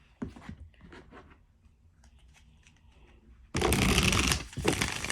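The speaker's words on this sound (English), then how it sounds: "let's pull some moon cards" Moonology oracle cards from a Manifestation deck are shuffled and pulled. Quiet handling and soft taps come first, then a loud, steady riffling rush of cards fills the second half close to the mic.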